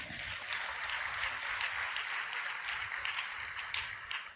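Audience members clap steadily at a spoken sermon, a moderately quiet, even wash of many hands sounding from some distance.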